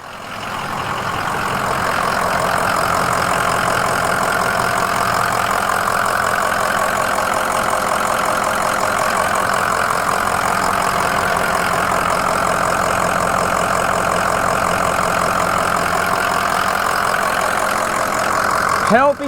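A 2005 Ford Excursion Limited 4WD with a 6.0L Powerstroke diesel idles close by, a loud, steady, even clatter that holds without a break for about twenty seconds.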